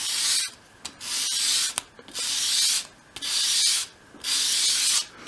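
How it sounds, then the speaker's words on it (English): Sandpaper laid flat on a work surface as a small wooden top piece for a 1/12 scale shop project is swept across it at an angle to bevel the edges: four close, rasping strokes in a steady rhythm, with light taps between them. "with your sandpaper flat on your work surface, hold it at a 45-degree angle and sweep it towards you"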